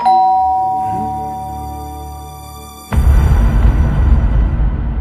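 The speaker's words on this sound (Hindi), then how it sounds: "अब डोरबेल बजेगी" A doorbell chimes clearly and close in a home, one ringing tone that slowly decays, then is cut off by a sudden burst of loud broadband noise.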